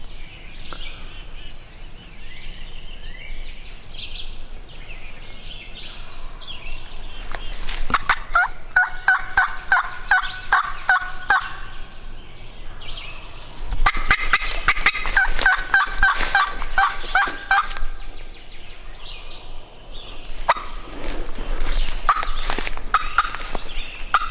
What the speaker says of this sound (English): It's extremely possible that this is a different turkey.